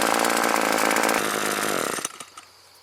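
A small 21.1 cc two-stroke engine on a Hitachi/Tanaka CG22EAS string trimmer revs loudly up close, then drops off and sputters down toward idle.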